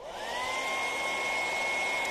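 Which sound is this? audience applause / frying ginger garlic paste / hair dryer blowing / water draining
hair dryer blowing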